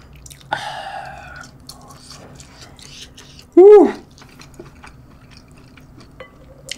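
Shin Ramyun instant noodles being eaten up close: soft wet chewing and a short loud slurp stand out against a quiet background, with brief mouth noises between them.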